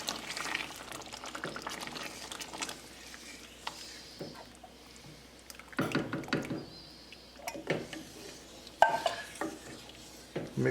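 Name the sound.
stirring coconut milk into potato and pea curry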